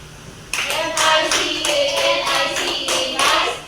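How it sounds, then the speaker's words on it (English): Students in a classroom clap together for a group that has just presented, a steady burst of close hand claps lasting a few seconds with a faint voice underneath. "Now let's give them a nice clap."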